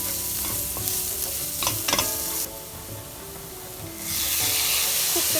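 Chopped onion sizzles in hot oil with cumin seeds and minced garlic for black dal makhani, with steady frying hiss, a few utensil scrapes and clatters as it is stirred, and a louder burst of sizzle near the end.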